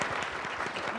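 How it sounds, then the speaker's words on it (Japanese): Audience applause at an academic meeting in a lecture hall, a dense burst of many hands clapping, close and steady for about a second. "では大きな拍手をお願いいたします。"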